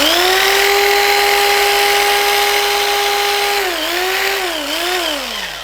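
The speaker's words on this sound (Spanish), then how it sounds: "Fíjense lo extraordinario que es un motor de electroventilador" A car radiator fan motor spun as a generator by a power tool gives a loud, steady high whine near the microphone, then the pitch dips and wavers several times before easing off toward the end.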